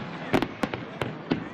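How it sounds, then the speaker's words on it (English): Outdoor fireworks display over a busy beach town, with several sharp bursts and crackling pops spaced irregularly, loud and fairly close, over faint background murmur. "treated to a free fireworks display to cap it all off"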